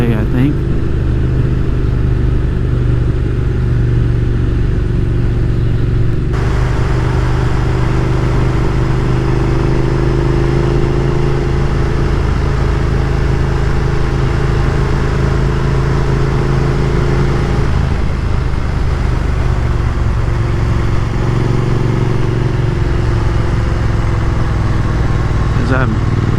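Triumph Thruxton R motorcycle engine drones steadily and loudly while riding on a country loop, a constant mid-pitched rumble with slight shifts in tone, no voices over it.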